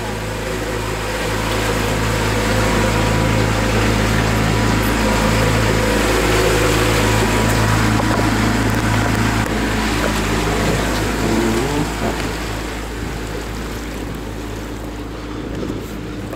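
A motorboat engine runs steadily on the Masurian lakes, giving a continuous close drone with wind and water noise over it for the whole stretch.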